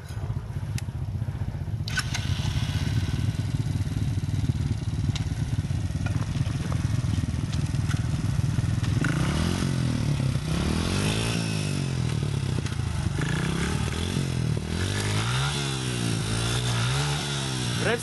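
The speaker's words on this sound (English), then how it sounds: "Rev sikit-sikit je, rev sikit-sikit je." A motorcycle engine revs in short, gentle bursts on a rocky trail in Vietnam, its pitch rising and falling close by with a raspy, chainsaw-like buzz throughout.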